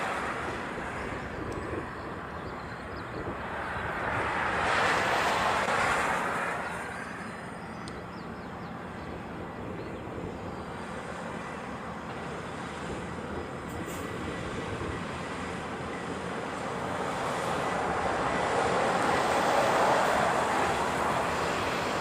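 Airliner arriving from Lihue on approach to Honolulu airport, a broad distant roar swelling and fading twice over steady background rumble, with no talk.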